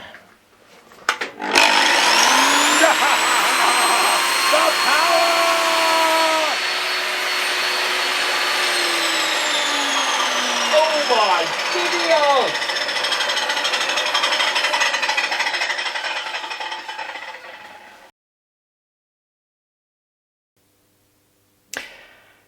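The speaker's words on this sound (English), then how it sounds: "I'm going to take the angle grinder and sort that out." An angle grinder cutting a piece of steel clamped in a vise, a loud sustained whine with shifting pitch lasting about sixteen seconds before stopping, then a brief restart.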